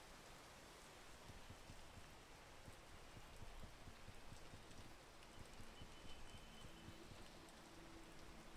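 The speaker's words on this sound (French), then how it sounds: "Je vais attendre la fin de la pluie." Steady, faint rain hisses evenly in the video game Peak, with no voices over it.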